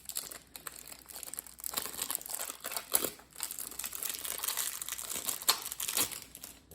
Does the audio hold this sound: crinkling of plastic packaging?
yes